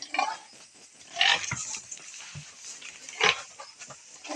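Live pigs on a farm, including lactating and gestating sows, give a few close grunts and squeals in short bursts separated by quieter pauses.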